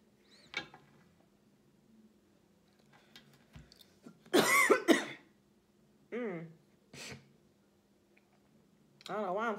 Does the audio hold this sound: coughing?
yes